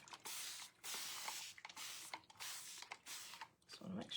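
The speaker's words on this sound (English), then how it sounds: "let's spray the back of it" An aerosol can sprays onto the back of tissue paper in several hissing bursts of varying length, separated by brief pauses, close and fairly quiet.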